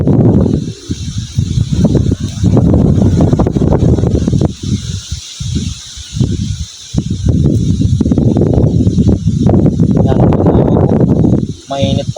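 Strong wind blows outdoors during a hot chili harvest, buffeting the microphone in loud, rumbling gusts that rise and drop in waves, with people talking underneath.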